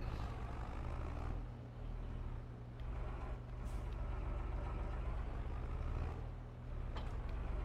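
A tractor engine idles steadily with a heavy low rumble and constant mechanical drone, heard up close with slight dips in loudness and no talk.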